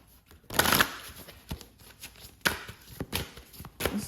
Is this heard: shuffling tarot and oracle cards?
yes